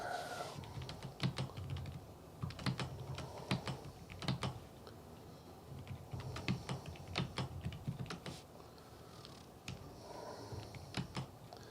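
Someone types on a computer keyboard in irregular bursts of crisp clicking keystrokes with short pauses between, close and fairly quiet, with no talk over it.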